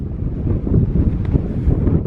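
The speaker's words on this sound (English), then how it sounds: "You can see it's very windy" Strong wind buffets the microphone atop a coastal hurricane barrier, a steady loud low roar that fills the whole clip with no voices heard.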